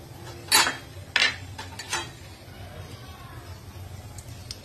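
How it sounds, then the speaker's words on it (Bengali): Raw prawns being coated with turmeric powder in a bowl: a few distinct clinks of a utensil against the bowl, close by, over a low steady background hum. "হলুদ গুঁড়ো দিয়ে মাছগুলো আমি মাখিয়ে নিচ্ছি"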